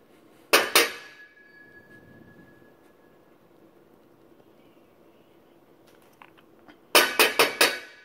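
A new, stubborn jar is banged on a table while cooking, a quick double knock near the start, then a quiet stretch, then four sharp close knocks in a row at the end.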